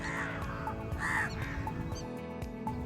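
Sarus cranes call on the Ganges floodplain in a dense, busy outdoor scene, with one clear loud bugling note standing out among repeated shorter calls and steady background noise.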